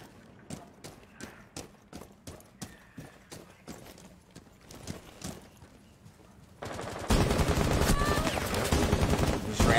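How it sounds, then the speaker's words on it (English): Gunfire in Rainbow Six Siege, a series of sharp evenly spaced single shots, then a dense, louder burst of rapid automatic fire near the end. "Randomly start shooting me through a window"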